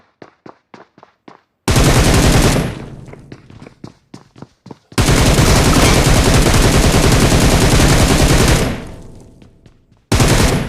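Gunfire in a battle royale video game: a quick string of separate shots, then loud sustained bursts of automatic fire broken by short pauses, with no talking.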